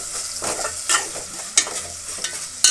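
Egg curry simmers and sizzles in a pan with a steady soft frying hiss, broken by a few sharp scrapes and clinks of a stirring utensil.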